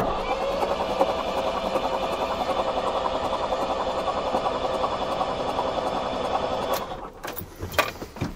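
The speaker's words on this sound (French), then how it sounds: "Pas longtemps, quelques tours de démarreur." An Iveco 35-8 diesel engine turning over on the starter motor, a fast, even mechanical churning with rhythmic pulses for about seven seconds, then stopping abruptly with a few clunks and rattles.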